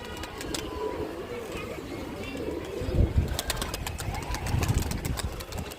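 Pet pigeons flutter and coo around an outdoor rooftop loft, with engine noise running underneath and a few louder wing flaps in the second half.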